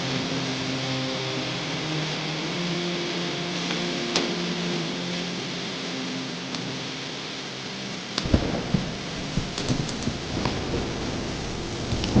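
Steady broadband rain falling, continuous and fairly loud throughout, with a few sharper splashes or knocks toward the end.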